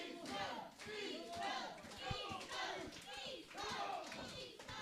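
Wrestling crowd at a live match in a hotel venue, cheering and shouting in waves, with rhythmic clapping and a few sharp thumps mixed through the continuous roar.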